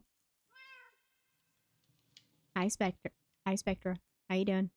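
A house cat meows several times in a row, close and fairly loud, with a person talking briefly to it just before the meows.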